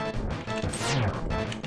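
A hammer strike shattering the Helmaroc King's mask in Link to the Past, a single crashing smash with a descending swoop, set over loud, busy game music.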